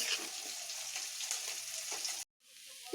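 Water spinach and mung dal fry in a pan with a steady, dense sizzle and occasional stirring scrapes, then the sound cuts off briefly before a quieter hiss resumes.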